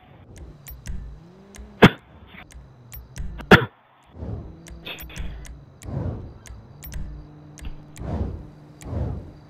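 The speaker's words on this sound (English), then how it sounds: "That's enough coughing." A person coughs several times in separate bursts, with a couple of sharp clicks in between, all against a quiet room.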